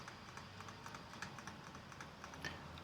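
Rapid clacking keystrokes on a mechanical computer keyboard with a numpad, quiet and steady with irregular bursts, heard alone without talk.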